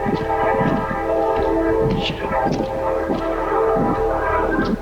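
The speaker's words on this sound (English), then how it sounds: "The train struck Officer Anderson" A train rumbles past on the tracks, with a steady low roar, rhythmic clatter of wheels over rail joints and occasional squeals, loud and close.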